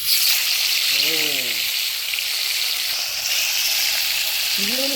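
Kalibaus fish pieces sizzle loudly and steadily in hot oil, a constant crackling hiss. A voice speaks briefly over it twice.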